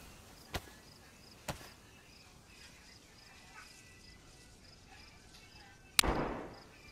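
Game gunfire in a multiplayer survival match: two sharp isolated shots a second apart, then after a quiet stretch a louder cracking shot with a brief rumbling tail, fairly distant over a low hiss.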